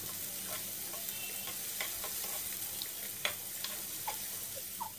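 Chopped garlic fries in soybean oil for a lentil dal with jute leaves, a soft continuous sizzle with scattered light pops and crackles, fairly quiet and steady.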